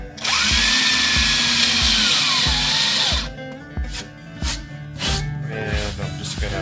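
A power drill drives drywall screws into the bottom of a homemade wooden stomp box, whirring loudly for about three seconds and then running in short bursts with rhythmic knocks and a voice in the background.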